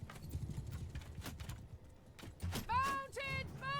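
Horse archers' hooves clopping across the field in Bannerlord, a loose rhythmic patter under soldiers' shouts, with a horse whinnying toward the end.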